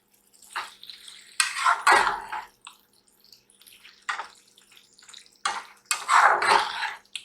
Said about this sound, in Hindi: इसको मिक्स करते हैं अगेन।